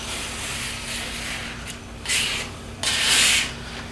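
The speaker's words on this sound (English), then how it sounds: "Take my card, squeegee, whatever you're using, and just go right up it" A plastic card squeegee is rubbed up over a large vinyl wall decal in short, close, scraping strokes. The swipes grow louder toward the end.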